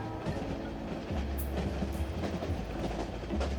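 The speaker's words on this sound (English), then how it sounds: "No way to the other side while the train's passing, and it's not stopping anytime soon." Long train rolling past on the tracks in the video game 3 Minutes to Midnight, a steady rumbling clatter of wheels and wagons that continues unbroken and loud throughout.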